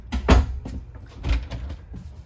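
An RV bedroom door in a 2022 Keystone Outback 328RL travel trailer opens with a couple of soft knocking thumps and light rattles, close by and moderately loud, with no talking over it.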